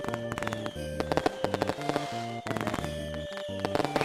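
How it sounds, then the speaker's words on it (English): The 2010 fireworks gear in Roblox sets off a rapid, dense run of crackling pops and bangs, loud and continuous, layered over looping music. "The 2010 fireworks."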